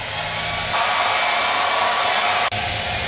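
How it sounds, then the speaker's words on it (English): A hair dryer blows steadily and loudly close by, stepping up to a stronger setting, holding a constant rushing whir, then dropping back with a brief dip. "The blow dryer needs CPR."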